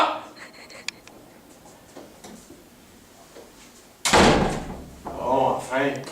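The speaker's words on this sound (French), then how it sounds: "Hey, la porte!" A door slams hard partway through, one loud close impact after a stretch of quiet room noise with faint ticks, followed by rustling and a burst of voice.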